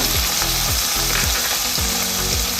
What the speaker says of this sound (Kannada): ಆಮೇಲೆ ರೆಡ್ ಚಿಲ್ಲಿ ಪೌಡ್ರು, ಇಷ್ಟನ್ನೆಲ್ಲ ನಾನು ಹಾಕಿ ಮಿಕ್ಸ್ ಮಾಡ್ತಾ ಇದ್ದೀನಿ